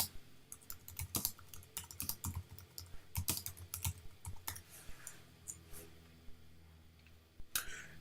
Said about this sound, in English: Simply just type in your address.